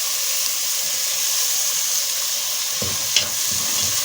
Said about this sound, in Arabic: وهننزل هنا بكل التوابل.